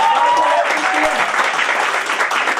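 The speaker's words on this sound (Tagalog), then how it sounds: "mas malakas yung palakpak kay June Francisco" An audience at a product presentation applauds for June Francisco with a strong, sustained round of clapping, while a voice talks underneath.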